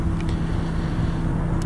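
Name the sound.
engine of a 2006 Subaru Legacy Outback AWD wagon running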